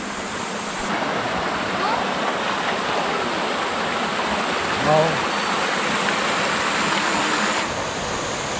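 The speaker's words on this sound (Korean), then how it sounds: "여기가 제 10폭포인 거북폭포입니다." Geobuk Falls, the tenth of the Twelve Falls in Geumsan, South Chungcheong, pours in a loud, constant rushing roar of falling water heard up close, with a brief voice heard faintly partway through.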